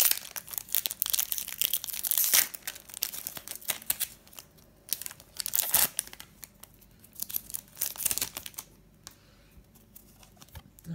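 A crumpled Pokémon Primal Clash booster pack is torn open and handled, with close, loud crinkling and tearing bursts of foil wrapper in an irregular rhythm and no talking.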